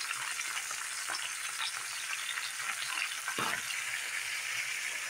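Chicken sautés in a pan as spices are scattered over it, a steady loud sizzle and fry hiss running throughout with a brief sharper burst partway, no talking.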